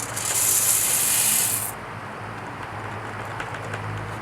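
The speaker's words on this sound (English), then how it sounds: "Stop the motor. Dump the beans." Dark-roasted coffee beans pour out of a roaster in a loud, dense hiss and rattle for about a second and a half, then give way to a lower mechanical hum with light clicks.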